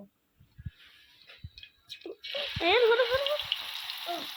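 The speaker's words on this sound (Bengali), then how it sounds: "তেল গরম হয়ে গিয়েছে এখন একটু ডিম দিয়ে দিব" Beaten egg hits hot oil in a home kitchen pan and breaks into a loud, bright sizzle that keeps crackling. Scattered clicks and a few spoken words come before it, and faint speech continues over the frying.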